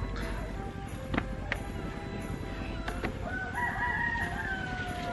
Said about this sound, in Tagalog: Pakain ko sa ating mga manok.